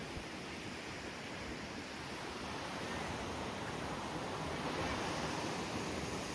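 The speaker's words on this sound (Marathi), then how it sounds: "हा एवढा मस्त समुद्र आणि म्हणतात हा समुद्र रिस्की नाही आहे चिवला बीचचा" Calm sea at Chivla Beach washes in as a steady, soft broadband hiss of gentle surf, faint and continuous with no voices, swelling slightly toward the end.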